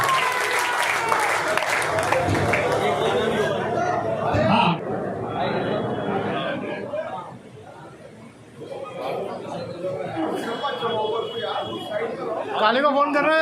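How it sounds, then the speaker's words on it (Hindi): Loud applause from an audience at an award ceremony and welcome function in Moradabad greets an honoured guest, with steady clapping and crowd chatter. It dips briefly midway, then swells again. "जोरदार तालियों से स्वागत कीजिएगा"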